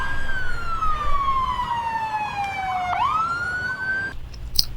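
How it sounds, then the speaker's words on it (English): A police car siren wails loud and close, one long falling tone that swoops back upward, with traffic rumble underneath. "Police car. This is a police car."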